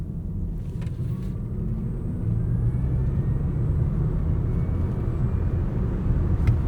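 Electric Tesla Model Y Long Range RWD on 19-inch wheels accelerating hard, a steady low road and tyre rumble that swells slightly as speed builds, with a faint rising whine, no talk over it.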